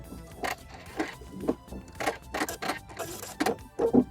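A computerized sewing machine stitching lace appliqué and tying a fix knot, giving quick, close bursts of mechanical whirring and clicking in an uneven rhythm, with short pauses between runs.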